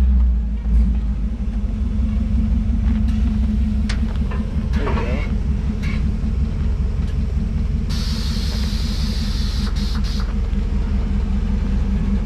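A 1953 GMC or 1968 Chevy C10 pickup truck engine with a narrow chamber muffler runs steadily at close range, a constant low rumble throughout, with brief higher noises and voices in the background.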